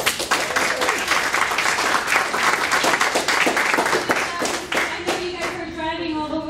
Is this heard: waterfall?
no